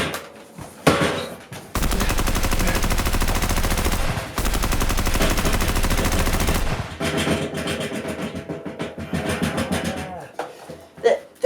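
Video game gunfire, loud sustained machine-gun bursts that fire continuously for several seconds, pause briefly and resume, then trail into scattered shots and game noise, with no clear talk over it.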